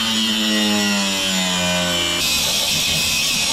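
A battery-powered cutting tool grinds through the metal fin ring of a competition exhaust shell, loud and close with a steady high-pitched whine that shifts pitch and then turns rougher and noisier partway through.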